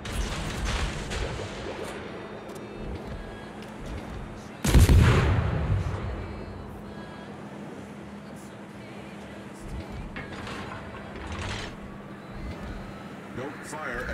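Naval gunfire in World of Warships, a single heavy boom about a third of the way in that rolls off slowly, over a steady low engine hum with a few faint distant shots and some talk.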